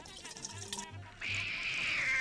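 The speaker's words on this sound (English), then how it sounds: "Now we take this bottle of HCl." Hydrochloric acid pours from a bottle with a gurgle, then a steady, loud rushing hiss of liquid that builds and holds to the end, following brief low tones.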